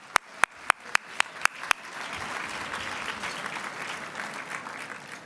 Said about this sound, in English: Let's give a round of applause to all of our interns if we can.